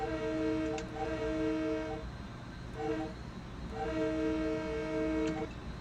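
A multi-tone horn on an M3 train in a Dovetail train simulator game sounds in three long chord blasts with a short one between, loud and harmonic over a steady rumbling engine drone.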